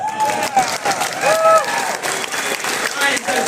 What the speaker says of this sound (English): Everyone clap for yourself.